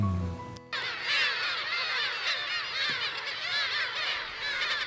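Seabirds call in a dense, overlapping chorus of honks and squawks on Gujido, a former marine shooting range island off Yeonpyeongdo; a brief low tone cuts off before the loud flock noise begins.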